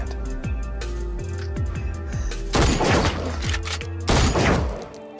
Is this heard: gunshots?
yes